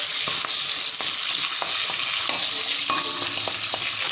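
Boiled mung dal fries in a wok with a loud, constant hiss of oil, broken by regular clicks and knocks of a spoon stirring against the metal, no talking.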